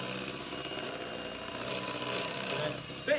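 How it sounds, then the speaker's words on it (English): An electric hand whisk mixes brownie batter in a bowl, giving a steady, close mechanical whirring buzz that swells slightly louder partway through before a brief clatter at the end. "Give it a whisk."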